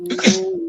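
A single sharp sneeze at close range, quick and fairly loud, with a brief nasal lead-in before the burst and a short trailing tail.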